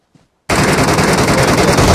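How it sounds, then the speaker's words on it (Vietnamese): Loud, rapid gunfire bursts abruptly after a short silence in PUBG Mobile, the MK marksman rifle firing in a dense, continuous stream of close, sharp shots. "Ông kia bắn MK hay quá"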